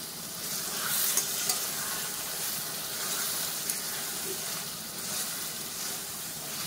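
Masala for a paneer and potato curry sautéed in oil, a continuous bright sizzle and hiss with soft stirring scrapes throughout, steady and close, with no voices.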